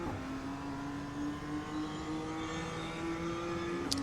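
BMW M2 race car in iRacing accelerating out of a left-hand corner at Mount Panorama in third gear, a steady engine drone with slowly rising pitch, moderately loud and continuous with no talk.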